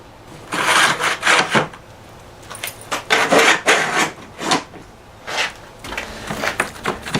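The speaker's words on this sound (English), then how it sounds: "Clamp it up good and tight." A board is clamped into a Worx portable work table, giving loud, close bursts of rubbing and scraping from the clamp mechanism, repeated in uneven strokes with short pauses between them.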